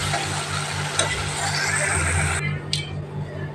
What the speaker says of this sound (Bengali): চানার ডালের দেখো মশলাটা পুরো কষিয়ে নিচ্ছি ভালো করে।